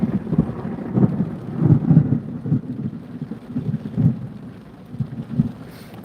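A thunderstorm rumbles outside with heavy rain, low rolling thunder swelling and fading over a constant wash of rainfall, no voices present.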